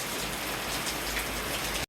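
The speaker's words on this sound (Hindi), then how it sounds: "हवा के दबाव के साथ बारिश की स्पीड और तेज" Heavy rain pours down steadily in a dense, continuous hiss with strong gusting wind during a storm in Karachi, loud and close, with no voices.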